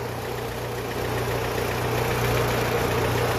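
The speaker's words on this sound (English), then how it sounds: "right now the radiator fan is on" A car's radiator fan running beside a hot turbocharged engine, a steady loud whirring drone over low engine hum, continuous and unchanging with no talking.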